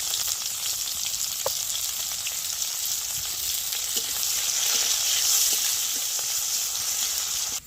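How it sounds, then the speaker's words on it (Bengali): Onion, panch phoron and whole cumin fry in hot oil, giving a loud, continuous crackling sizzle with occasional faint spatters throughout. "কয়েকটা পাঁচ ফোড়ন আর কয়েকটা গোটা জিরা তেলের মধ্যে দিয়ে দিচ্ছি, আর কিছুটা পেঁয়াজ দিয়ে দিচ্ছি।"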